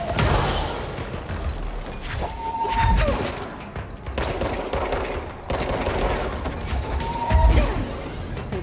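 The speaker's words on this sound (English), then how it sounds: "Who's shooting?" Bursts of gunfire from the Control video game crack and rattle in rapid volleys over a noisy, busy background, with a couple of louder clusters of shots.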